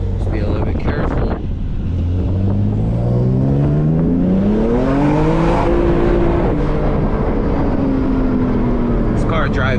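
Manual BMW F80 M3 sliding sideways in a drift, engine loud and close as revs climb and fall in long sweeping pulls, with wind buffeting the microphone throughout.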